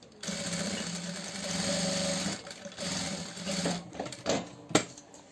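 A sewing machine stitching fabric for a fabric organizer basket, a fast close mechanical whirring run that stops, followed by a few short bursts and clicks as the stitching starts and halts.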